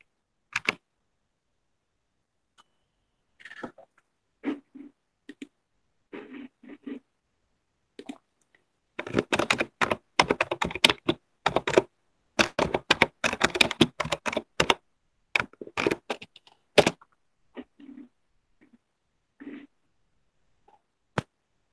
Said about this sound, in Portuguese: até o teclado dá para ouvir